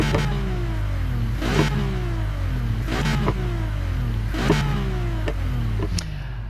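A Ferrari LaFerrari's 6.3 liter V12 revving in the racing game Need for Speed Heat, loud and close, with repeated rising howls that peak roughly every second and a half over a steady engine drone.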